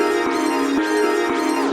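A bright, ringing bell tone repeats in a steady pattern within a trap beat hook produced in Logic, sustained and layered with harmonic overtones, clear and forward with no talking.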